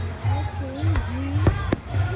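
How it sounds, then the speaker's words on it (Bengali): Fireworks at a 4th of July Independence Day celebration in the USA crack as a few sharp, separate bangs at some distance, under a steady background of people talking. "কি সুন্দর সুন্দর আতশবাজি ফুটছে দেখেছেন, অনেকক্ষণ ধরেই বেশ চলবে।"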